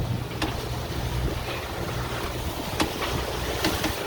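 A Lagoon 42 catamaran motor sails across the Gulf of Mexico at about eight knots, with a continuous low engine rumble under wind and rushing water, steady and enveloping.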